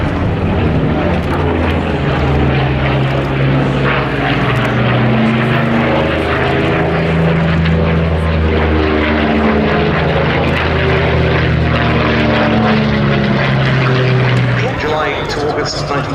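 A Yak-3 and Yak-9 propeller fighter pair flying at the Duxford Battle of Britain airshow, a loud sustained piston-engine drone with shifting pitch throughout, a commentator's voice talking over it.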